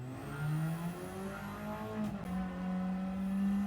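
Radical SR3 race car engine in Gran Turismo 7 at Dragon Trail Gardens, revving hard under full throttle as the pitch climbs and holds steady, loud and close with a brief dip and tire noise midway.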